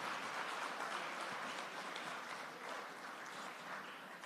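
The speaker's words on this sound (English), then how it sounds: "I think he deserves a round of applause." Conference audience at a national security cybersecurity event applauding a speaker, a steady dense wash of clapping from a sizeable crowd that holds evenly throughout and eases slightly toward the end, with no talking over it.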